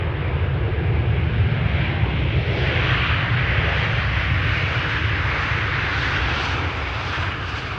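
A KLM plane lands at Amsterdam Schiphol after arriving from Düsseldorf, a loud, close, sustained engine roar that swells slightly midway and then eases toward the end, with no talking.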